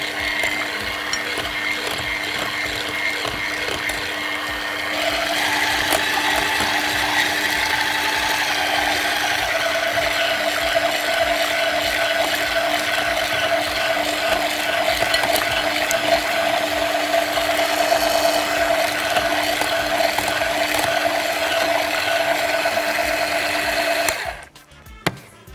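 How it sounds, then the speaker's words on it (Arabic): Electric hand mixer beating peeled mango into a purée, a steady close mechanical whir with a constant pitch that runs alone for about twenty-four seconds, then cuts off abruptly. "ضربت كده بالشكل ده بالمضرب"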